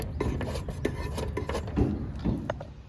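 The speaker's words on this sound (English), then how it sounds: "These lock nut wrenches make it so much easier." A lock nut wrench turns during an HVAC furnace install, giving close, dry scraping and ratcheting rasps in short repeated strokes, with no talk.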